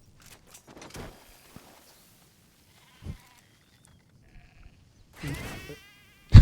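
Sheep bleating in the video game Metal Gear Solid V, a few short wavering bleats spread across the stretch, the last one louder and closer, with quiet background game sounds between.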